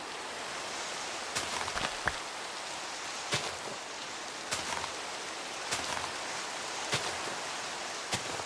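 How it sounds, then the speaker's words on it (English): Steady rain hisses down in a blocky Minecraft-style survival world, an even broadband patter with faint clicks of droplets throughout and no voices. "Such a rainy seed. Rains so often."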